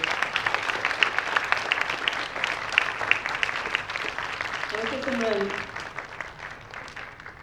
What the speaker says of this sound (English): can I welcome Simran Sharma to this stage and a big round of applause